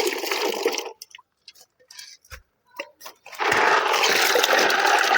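Small snails rinsed in water in a second wash: a burst of splashing and sloshing, then a quiet stretch of scattered light clicks and drips, then a longer sustained wash of water churning.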